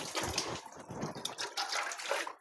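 Water splashing and pouring in uneven bursts as a child is bathed, close and fairly loud, with drips and sloshing between pours and no speech.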